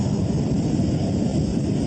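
A roaring, steady rush of wind tears through the cockpit of a British Airways BAC One-Eleven after a windscreen blowout at high altitude, a loud continuous broadband howl with no break.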